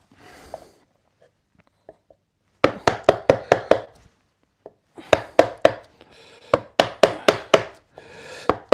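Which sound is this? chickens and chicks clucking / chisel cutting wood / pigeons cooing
chisel cutting wood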